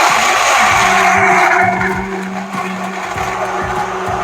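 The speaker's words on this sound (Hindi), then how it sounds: "ये हम ब्लेंडर पे रखेंगे और अब इसको हम चला देंगे। ये देखिए, अब हम चला रहे हैं इसे" A blender whirs continuously while making a berry and banana smoothie, a loud steady motor drone with rhythmic chopping pulses as the fruit churns.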